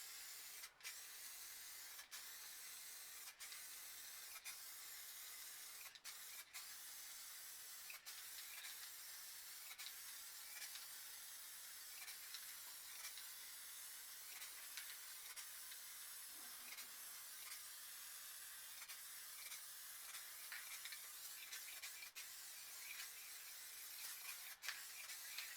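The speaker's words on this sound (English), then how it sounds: "So we're just going to go across and move up as we're spraying it." A spray can lays clear coat over a finished piece of spray paint art, giving a steady close hiss that runs the whole stretch, broken by brief pauses and sharp clicks as the nozzle is pressed and released.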